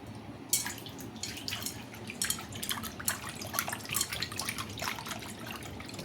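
Water runs from a tap into a bowl, a close, continuous splashing trickle with uneven drips and bursts that lasts several seconds, and no one speaks.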